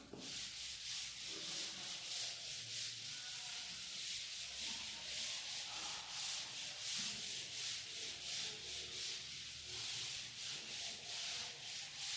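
A drawn chart is rubbed with steady, repeated strokes that make a soft, close scraping, sanding-like sound, faint and continuous with no talking.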